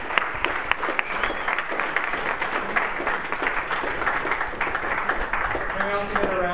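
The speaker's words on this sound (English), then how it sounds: "Can we get a round of applause for our speakers?" Audience applause for conference speakers, a dense steady patter of many hands clapping throughout, with a voice talking over it near the end.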